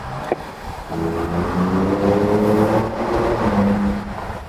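A Ford Ranger Raptor pickup in sport mode, its engine revving up and down through a couple of downshifts, a loud, close, sustained engine drone with shifting pitch.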